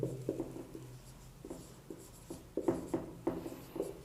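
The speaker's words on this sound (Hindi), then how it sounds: "इसको एग्जाम्पल यहाँ पे हम लिख दे रहे हैं" A marker or chalk writes on a board in short scratchy strokes with brief pauses between them, quiet and close, with no talk over it.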